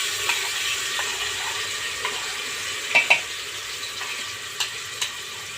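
Ginger-garlic paste ground with cumin, cloves, pepper, bay leaf and kasuri methi frying in a pan for chicken aamti, a steady soft sizzle with a few light stirring clicks and taps.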